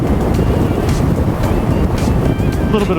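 Steady, heavy wind rush buffeting a microphone while riding a Honda Rebel 500 motorcycle on a windy day, a constant low roar filling the whole stretch with no pauses.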